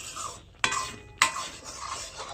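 A spoon scrapes through thickening pitha batter in a pan, with two sharp clinks against the metal and soft stirring scrapes in between, close and brief, with no voices.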